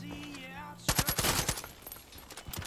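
Automatic gunfire from the video game Far Cry 5 bursts in as rapid loud rattling shots, following a brief stretch of in-game tones and ambience.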